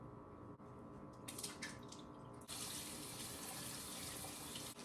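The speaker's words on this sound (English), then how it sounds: "I gotta rinse out the beans" Steady rush of tap water rinsing canned kidney beans in a kitchen sink, faint at first with light splashing, then a louder continuous stream from midway on, with no talking.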